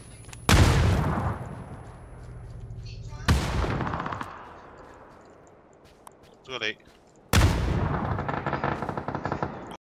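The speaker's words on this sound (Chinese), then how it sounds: "轰炸区。" Bombing zone artillery in PUBG, three heavy blasts spaced a few seconds apart, each followed by a long rumbling decay, with players talking in between.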